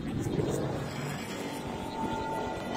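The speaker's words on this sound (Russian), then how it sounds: "Еще и вертолет." A helicopter in the mobile game Call of Duty: Mobile hums with a steady, moderately loud rotor and engine drone beneath ongoing game noise and players talking.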